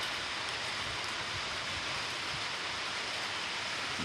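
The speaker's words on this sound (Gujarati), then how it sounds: "વરસાદ અત્યારે ચાલુ જ છે." Steady rain pours down on a terraced roof, a continuous even hiss of falling water, close and uniform, with no voices.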